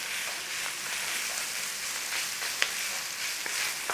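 Bacon stirred through mince frying in a pan, a steady close sizzle with faint scraping and a few sharp clicks of the spoon against the pan.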